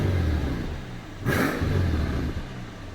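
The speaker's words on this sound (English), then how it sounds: "the bark of the exhaust. I could just sit here and listen to that all day." A Mercedes-AMG SL65 with the M275 engine revs once, a loud rising bark from the exhaust rising over a steady idle rumble before settling back down.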